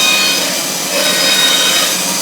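A saw cuts through rough sawn timber boards in a steady, loud, continuous rasping roar close by, with no talk over it.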